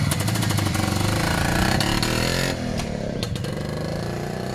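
An Izh Planeta 2 motorcycle engine runs in the open air on a first test ride, a loud, continuous, rough two-stroke rattle with a slight drop in level midway and no talk.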